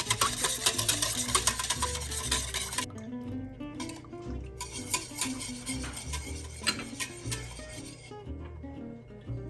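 A butter and flour roux being stirred continuously as it cooks in a pan, giving a steady scraping and stirring texture with a soft sizzle throughout, fairly close and with no talking.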